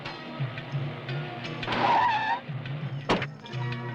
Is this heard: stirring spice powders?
no